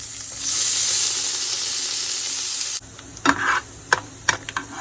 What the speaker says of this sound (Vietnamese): Mỡ hành á thì mình sẽ đi thắng tóp mỡ nè.